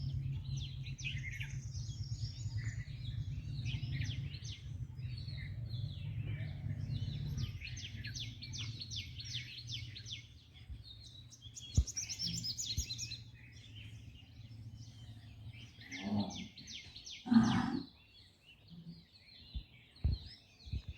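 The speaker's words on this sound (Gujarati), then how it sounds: "પક્ષીનો અવાજ કેવો આવે જો." Birds sing and chirp in repeated high trilling phrases near a village temple, fairly faint and distant, over a low steady hum, with a few sharper calls near the end.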